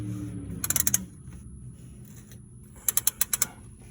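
A hand ratchet turns during an oil change on a 2018 Nissan Murano Platinum, giving two short bursts of quick, crisp clicks separated by a quiet pause, close and clear.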